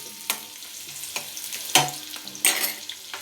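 Cashews frying in a pan while cooking Bombay rava upma, with soft sizzling and several louder stirring bursts and scrapes, close and without talk.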